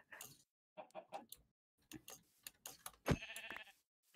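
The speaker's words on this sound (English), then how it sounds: "There's some sheep here. Can I kill them?" Sheep in the video game Minecraft bleat in a few short, close calls spread across the moment, with brief gaps of quiet between them and no talking over them.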